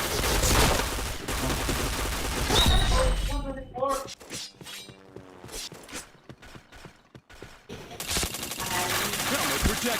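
Rapid bursts of gunfire and sharp impact cracks from a shooter video game in rainy weather, loud and dense at first, thinning into scattered shots and clatter mid-clip before heavy firing resumes, with game voice cues mixed in.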